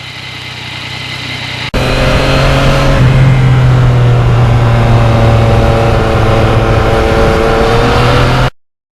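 Yamaha MT-09 motorcycle engine running loud and close, cutting in suddenly, then holding a steady throaty drone with a rising rev midway before stopping abruptly.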